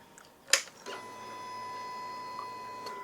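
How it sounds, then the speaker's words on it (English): A click followed by a steady, faint electric whine from a motorcycle fuel pump priming, holding for a couple of seconds, close by, with no speech. "Nice fuel pump sound, we like that."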